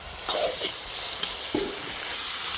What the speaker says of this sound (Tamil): அதனால் தக்காளி சேர்த்துக்கிறோம் நாலு தக்காளி